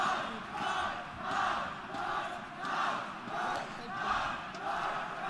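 A large esports crowd at a CS:GO tournament chants in a steady rhythmic pulse, swelling and fading about once per second, loud and continuous throughout.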